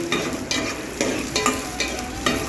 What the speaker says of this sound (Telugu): శనగగింజలు కూడా కొంచెం స్లోగా నిదానంగా వేపుకోవాలి